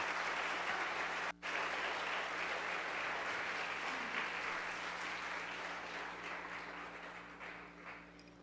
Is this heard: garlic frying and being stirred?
no